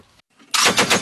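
A machine gun fires on the front line in Ukraine near Horlivka, a short, loud burst of rapid shots after a brief quiet moment.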